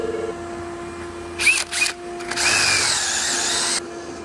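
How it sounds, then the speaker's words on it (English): Power drill enlarging a bolt hole in a Suzuki Samurai seat bracket, two short whirring bursts followed by a longer sustained high-pitched drilling run, close and fairly loud over a low background hum. "We're going to drill her out a little bit."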